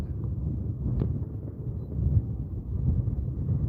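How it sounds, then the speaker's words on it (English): Strong wind gusts from Tropical Storm Ernesto batter an outdoor microphone at Simpson Bay, St Martin, a steady low roaring rumble with surges of buffeting, no voices. "But there was a big gust."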